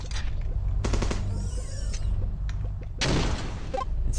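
Video game gunfire from Crossy Road: bursts of rapid shots and thuds repeat at a steady level over a constant game soundtrack, with a sharp, dense burst near the end.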